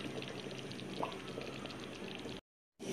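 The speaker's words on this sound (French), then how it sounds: "nos 2 piments et on laisse mijoter un peu" Eggplant sauce with salt and two chili peppers simmers in a pot, a steady close bubbling hiss that runs continuously before cutting out abruptly near the end.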